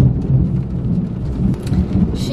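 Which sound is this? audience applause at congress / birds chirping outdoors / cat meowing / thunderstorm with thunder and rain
thunderstorm with thunder and rain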